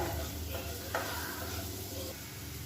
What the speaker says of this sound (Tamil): மீடியமான ஃப்ளேமில் இந்த மசாலாவோட இந்த முட்டையை வந்து நல்லா வறுத்துக்கலாம்